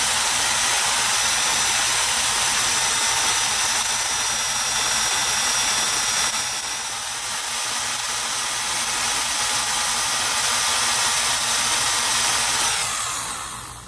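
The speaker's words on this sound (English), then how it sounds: "I'm going to use my regular 3/8 drill out of my set here to get it started" A power drill with a 3/8 bit whines loudly and continuously as it bores into metal on a VW Bus beam, the pitch dipping briefly midway before the motor winds down at the end.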